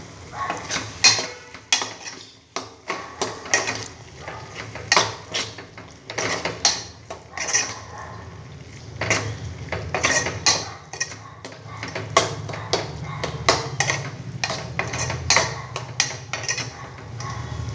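Food stirred in a pot after chilli powder is added, a run of close metallic spoon scrapes and clinks against the pot in an uneven rhythm, loud and continuous with no talking.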